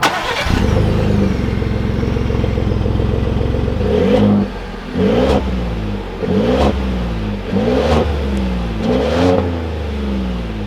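A 2021 Ford F-150 Platinum pickup truck starts and drives off, its engine loud and near, with a steady idle followed by repeated rising and falling revs as it pulls away, with no talk.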